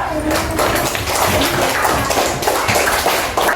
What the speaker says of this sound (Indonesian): Tepuk tangan untuk Niswa.